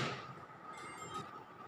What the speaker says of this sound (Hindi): इसको भी हम 2 मिनट माइक्रोवेव कर रहे हैं।